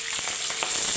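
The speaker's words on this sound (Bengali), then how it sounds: "মাছের মাথাটা প্রায় ভাজা কমপ্লিট হয়ে গেছে, দেখুন মোটামুটি এপিট ওপিট করে লাল করে ভেজে নিয়েছি।" Fish heads fry in hot oil for moong dal, giving a dense, constant sizzle with small crackling pops, loud and close.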